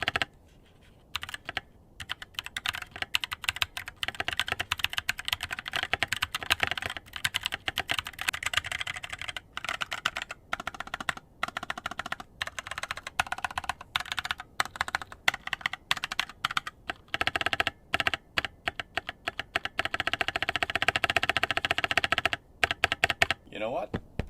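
Keystrokes on a stock Kono67 mechanical keyboard in a fast, continuous, close-up typing run with brief pauses, slightly pingy and clacky.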